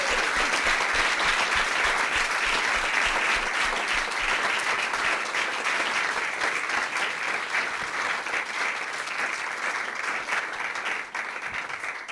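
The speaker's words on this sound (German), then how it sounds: "Applaus." Sustained audience applause closing a live evening talk event, loud, dense and even clapping from a crowded room that carries on for the full twelve seconds, easing slightly near the end.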